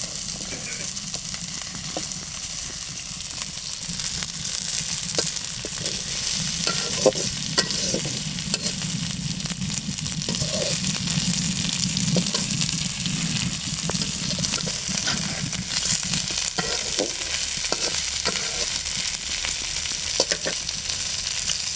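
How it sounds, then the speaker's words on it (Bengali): Fish and onion fry lightly in a pan over a wood-fired stove, a steady close sizzle with frequent scraping stir strokes running throughout. "এখন হচ্ছে মাছের সাথে পেঁয়াজটাও দেওয়া হয়েছে ভাজার জন্য হালকা করে"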